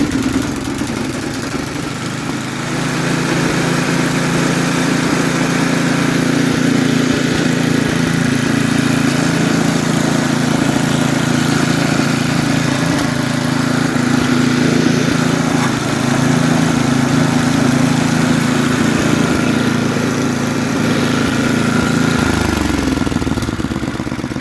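A used, old snowblower engine with a worn carburetor runs warm at a steady idle, a continuous close mechanical drone that holds evenly before the revs shift near the end.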